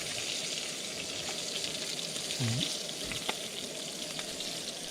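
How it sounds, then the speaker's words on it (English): Potato frying in oil in a pan over a camp fire, a steady soft sizzle running throughout with a brief bubbling flare near the middle and a few faint ticks, no voices. "potato there cooking in the oil also"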